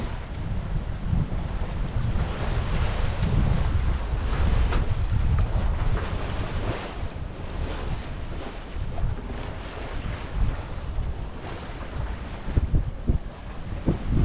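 Steady wind roars against the microphone while a sailboat heads out across open water toward Beaver Island in July, a continuous loud rush with waves and surf faintly churning underneath and no talking.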